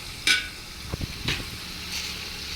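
Ginger garlic paste frying in a pan for mutton biryani, a steady close sizzle broken by a few scraping stirs of a spoon against the metal, with no voices.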